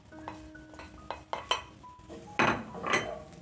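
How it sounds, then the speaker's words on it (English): Beef strips go back into a metal pan on the stove, with clinks and scrapes of utensil against cookware, a few sharp knocks, and then a soft burst of sizzling, all heard up close with no talking. "Now I'm going to put back my beef into the pan"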